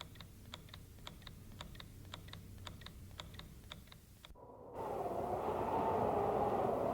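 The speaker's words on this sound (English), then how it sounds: "And this is the rhythm of a pendulum." A clock pendulum ticks evenly in a double-beat pattern for about four seconds, faint against low background noise, then breaks off into a louder rushing, rumbling sound.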